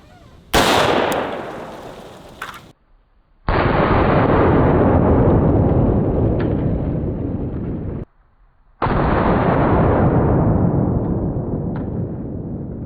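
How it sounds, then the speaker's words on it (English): .223 rounds from an AR-15 rifle fired at an empty YETI cooler outdoors, giving a sharp blast followed by two more long, loud roaring bursts separated by brief gaps, with no talking. "let's try the 223 out of an AR-15"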